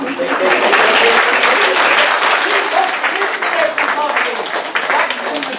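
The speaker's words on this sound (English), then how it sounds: "I'm going to do a little clap down below, clap up top. We're going to clap in build-up." Dense, loud applause from a stand-up comedy audience fills the whole stretch, many hands clapping together in a steady wash with crowd voices underneath.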